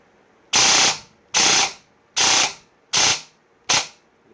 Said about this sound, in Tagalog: Grabe, full auto na lang natin para mas mabilis.